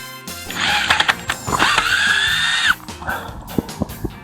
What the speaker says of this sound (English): Drill my last hole here now that we got those three locked in.